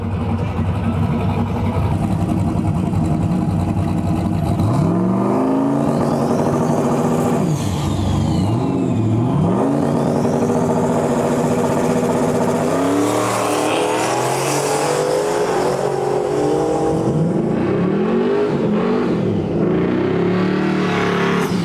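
A turbocharged LS-powered Foxbody drag car roars loudly down the strip, revving and climbing in pitch as it accelerates hard, with repeated rising sweeps over sustained engine noise.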